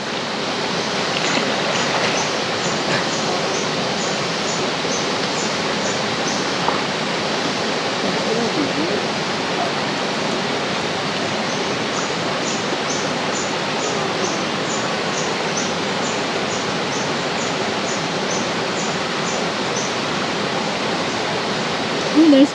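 River in the Mt. Victoria area of Palawan rushing steadily, a broad constant roar of flowing water, with faint high chirping from insects or birds in the background.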